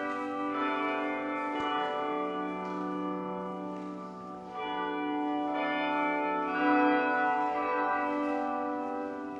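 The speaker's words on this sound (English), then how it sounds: "Currently right below the bells." The church bells of Mission San Luis Rey in Oceanside ring out loud and close, heard from directly below, their rich overlapping tones sustaining and swelling continuously with no voices.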